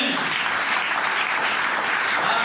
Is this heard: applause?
yes